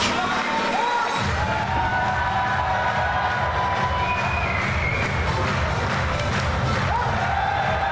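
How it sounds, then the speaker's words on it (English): A wrestling crowd roars with sustained cheering and shouting as a tag team makes its entrance at a Battle Imperial event, a dense, loud wall of voices with no clear pauses throughout. "Great crowd reception for Oliver and Panic."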